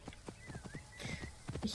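Soft, quick clip-clop of horse hooves in the video game Assassin's Creed Origins, a short run of rhythmic hoofbeats with a faint whinny, played quietly.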